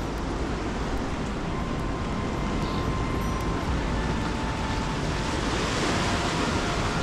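High-tide ocean waves wash onto a beach at Arraial do Cabo, a steady, continuous roar of surf mixed with wind noise on the microphone, with no voices.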